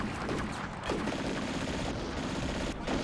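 Machine gun fire in the wartime strategy game Combat Mission: Barbarossa to Berlin, a fairly faint, continuous rattle of rapid shots running throughout with small dips in intensity.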